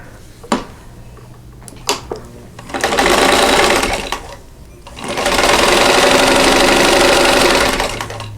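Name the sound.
sewing machine stitching quilt half square triangle units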